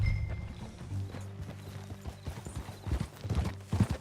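Horse hooves in Red Dead Redemption 2 clip-clop in a quick, uneven rhythm, close and moderately loud, over a low droning background.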